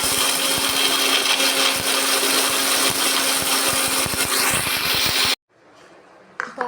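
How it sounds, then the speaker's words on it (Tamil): A kitchen mixer grinder runs loud and steady, grinding ingredients for homemade shawarma sauce, with a rattling churn throughout before it cuts off abruptly near the end, leaving faint room noise and a brief clatter. "இப்போ நம்ம மிக்சியில் போட்டாச்சு, இதை அரைக்கலாம் வாங்க."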